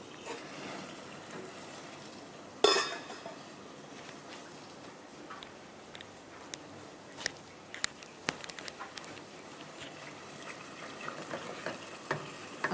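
Cauliflower pieces sizzle and fry in oil in a pan while being stirred and turned, a steady crackling hiss with occasional sharper clinks and taps of the utensil, including one louder knock early on.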